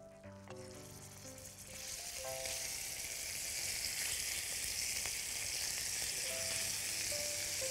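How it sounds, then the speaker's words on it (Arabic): Ground meat hits a hot pan as the base for stuffed peppers, starting with a few clicks before a bright, steady sizzle swells up and holds, fairly faint overall, with no voices. "نبتدي الاول باللحمه، والافضل الواحد ينزل اللحمه قبل البصل."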